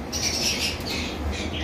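Loud, continuous squawking from an albino dot pied mutation pet bird, harsh repeated calls close by, with no talking.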